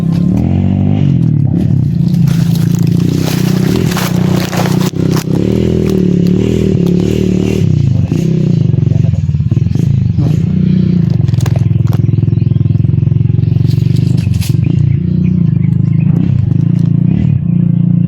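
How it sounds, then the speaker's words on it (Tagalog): Many motorcycles running together nearby, a sustained loud low engine drone with revving swells throughout, accompanied by clattering and scraping noises. "Parang maraming motor."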